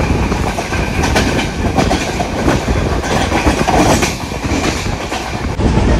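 A Konkan Railway train passes Adavali station with a loud, continuous rumble and rhythmic clickety-clack of wheels over rail joints, heard from on board and steady throughout.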